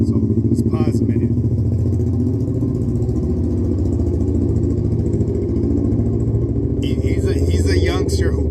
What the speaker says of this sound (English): He has a very annoying motorcycle.